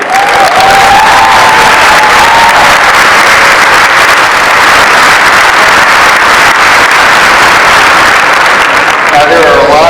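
A large audience at the opening ceremony of the 31st Space Symposium breaks into loud, sustained applause that fills the hall, with a few cheers and a voice rising over it.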